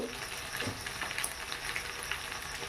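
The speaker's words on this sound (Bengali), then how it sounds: "গরম মশলা গুঁড়ো বেশ কিছুক্ষণ নেড়ে চেড়ে মশলাটাকে কষিয়ে নেব" Turmeric, Kashmiri chili powder and garam masala paste fry while being stirred for echod chingri, a soft, steady sizzle and crackle close by at low volume.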